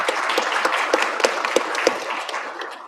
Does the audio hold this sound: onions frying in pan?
no